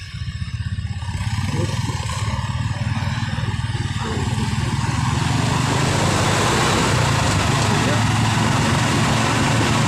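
A loud, rough bus exhaust roar from an aftermarket muffler, rumbling steadily and building slightly, close by, with people talking underneath.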